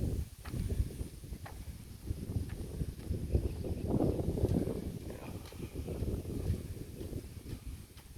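Strong wind buffeting the microphone beside a bypass road, low rumbling gusts that swell and ease over eight seconds, moderately loud with no clear talk.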